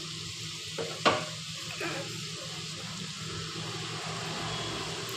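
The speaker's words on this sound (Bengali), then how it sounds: "এভাবে কিছুক্ষণ নাড়াচাড়া করব মশলাটাকে কষিয়ে নেব" Spice masala sizzles steadily in a pan, a continuous hissing fry with one sharp clink of a stirring spoon near the start and soft scrapes after, close and unvoiced.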